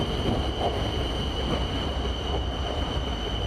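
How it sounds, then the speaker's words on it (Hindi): A train rumbles steadily at a station platform, a constant low roar with a high whine held throughout, no distinct clatter or horn and no talk. "उस तरफ की तो ट्रेन आ गई है"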